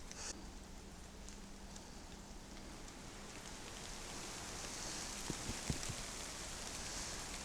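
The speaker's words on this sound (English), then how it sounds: "every time the wind blows you get a shower off the branches on the trees" Water showers off oak tree branches in the wind in a misty ancient oak wood, a steady hiss of dripping and pattering drops with a few louder taps, continuous and fairly close.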